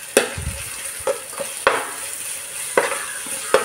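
Ginger garlic paste and onions sauté in a hot pan for Arabian kabsa, giving a continuous loud sizzle with a few sharp spatula taps spaced about a second apart, close and without talk.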